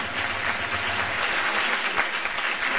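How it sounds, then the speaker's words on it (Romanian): An audience applauds the Little Angels group, a dense, steady wash of clapping heard moderately close with no voices over it. "Aplauze însă pentru Little Angels"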